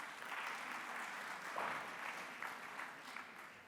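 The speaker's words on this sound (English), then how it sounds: "A round of applause again for Tola." An audience at an SMME business conference claps steadily, a dense, moderately quiet round of applause that holds evenly for several seconds with a few brighter claps standing out near the end.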